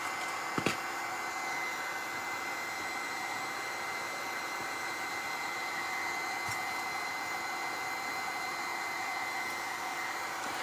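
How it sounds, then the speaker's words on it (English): A heat gun blowing steadily to dry paint on a patina craft piece, a continuous close whooshing hiss throughout with no talk. "I'm trying to go here with the heat gun so it's going to dry"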